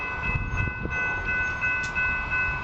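A train sounds a sustained horn near a railroad crossing, steady and moderately close over rumbling wheels, with no talking.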